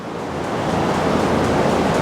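A loud, steady rush of water spraying from a farm cow-milking machine during washing, hissing continuously without pause, close by, with no voices.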